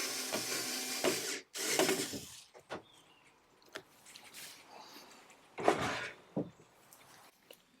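Hardware and aged screws are fastened onto a piece of furniture. Close scraping bursts alternate with scattered clicks and knocks.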